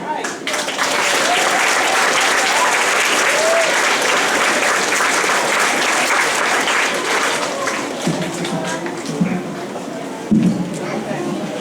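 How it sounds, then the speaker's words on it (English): Sustained applause from a large crowd at a graduation ceremony, steady and full for most of the stretch, with a few voices and whoops surfacing near the end. "Please give Ms. Fern another round of applause,"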